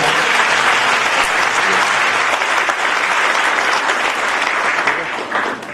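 An audience at an interactive talk with UPSC aspirants claps loudly and continuously, a dense, even wash of applause that tapers off at the very end.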